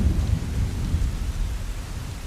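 Steady heavy rain with rumbling thunder, a dense continuous wash of falling water and low booming roll, loud and unbroken.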